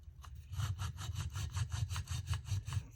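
A Case Mid Folding Hunter pocket knife blade is drawn back and forth across a sharpening stone in quick, regular scraping strokes, about a dozen close rasping passes in a steady rhythm, with no talking.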